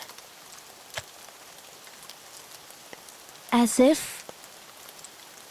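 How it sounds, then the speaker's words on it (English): Rain falls as a soft, steady patter throughout, with a brief spoken word cutting in near the end over the continuous drizzle. "I like the rain."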